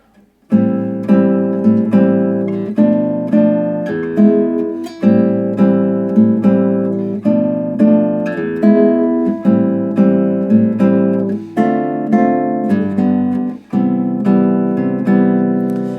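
Guitar strums a repeating chord progression in a steady, syncopated bossa nova rhythm, each chord ringing clearly with no voices.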